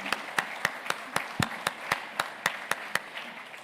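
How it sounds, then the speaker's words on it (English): Slow, evenly spaced claps from a single person or a small group at a general assembly open session, about a dozen sharp distinct hits, fairly quiet and set against a low room murmur. "I think they deserve the applause"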